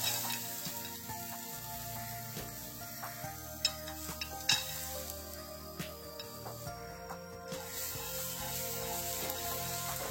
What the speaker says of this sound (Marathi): आता गरम कढईमध्ये मी हुरडा घालून घेते.